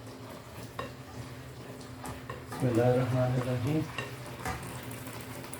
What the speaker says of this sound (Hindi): हमने इनमें भिंडियाँ आप फ्राई करेंगे। ऑयल हमारा गर्म हो चुका है, अब हम इसमें भिंडियाँ डालेंगे